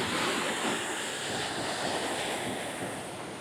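Sea waves wash steadily near a bridge as Hurricane Melissa approaches, a continuous broad rush of surf mixed with wind noise on the microphone, moderately loud and unbroken.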